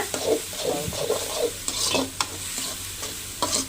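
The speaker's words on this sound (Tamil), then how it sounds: "அடுத்து தேங்காய் போட்டுக்கிறேன் பாருங்க நல்லா வணக்கி விடுங்க" Grated coconut stirred and sautéed in a hot pan for ration-rice kozhukattai, with steady close scraping strokes of the spoon over a soft, continuous sizzle.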